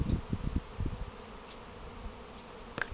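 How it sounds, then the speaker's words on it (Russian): A honeybee swarm in a tree, heard as a faint, distant buzz of many bees with a few louder thumps and rustles near the microphone early on. "Опа, рой разделился."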